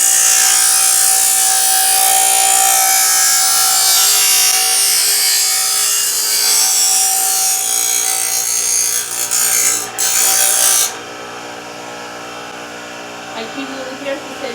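A machete blade is sharpened with repeated rough, rasping strokes that run continuously and loudly, then stop abruptly near the end, leaving only faint, sparse sounds.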